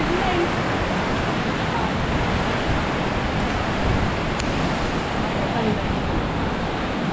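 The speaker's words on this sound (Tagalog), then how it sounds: "mas malakas yung agos ng tubig dito." Rushing river current swollen by typhoon floodwater roars as a steady, dense broadband wash, loud and close throughout with no pauses, while voices are faintly present beneath it.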